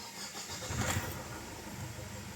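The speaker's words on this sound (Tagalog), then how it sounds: "tapos pa-start ko na itong makina" A Ford Everest engine cranks and catches, a brief broadband whirr that swells to a steady running roar, heard close.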